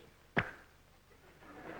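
A single short, sharp vocal pop or click, like a mouth smack, imitating a period, then quiet breathy noise.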